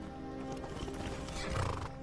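A horse in the video game Skyrim whinnies and neighs while hooves clop, a moderate continuous burst that swells toward the end over quiet game ambience.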